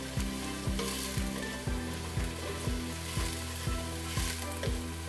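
Chopped carrots sizzle steadily in an oiled pot while being tossed for lentil soup, a continuous frying hiss broken by evenly spaced stirring scrapes.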